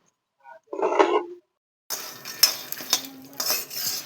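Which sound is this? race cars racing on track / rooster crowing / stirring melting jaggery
stirring melting jaggery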